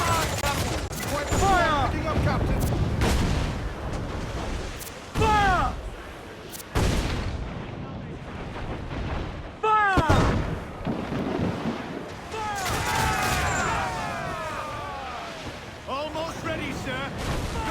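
Ship cannons fire in repeated heavy booms during a naval battle in Assassin's Creed IV: Black Flag, several salvos loud and close amid crashing effects, with crew voices shouting over the barrage.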